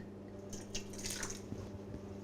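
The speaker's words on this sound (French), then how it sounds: "une toute petite goutte de bière de Noël" A tiny drop of Christmas beer falls into egg yolks in a quiet kitchen, giving a few faint, soft wet drips and splashes over low background hum.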